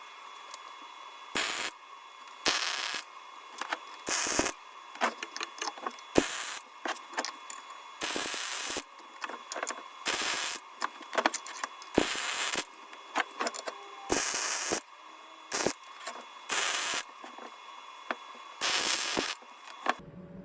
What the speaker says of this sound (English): And now we can weld that.